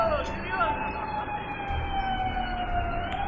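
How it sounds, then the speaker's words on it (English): Emergency sirens wail in the background of drone-strike footage from Russia, a rising and falling tone that holds steady throughout over a dense rumble of noise. "The very notable sound of sirens can also be heard in the background"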